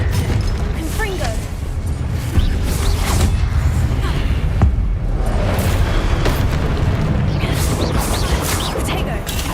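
A Confringo blast from Hogwarts Legacy erupts in a burst of booming, crackling fire amid ongoing combat noise, with dense rumbling effects and a spoken incantation over the clash.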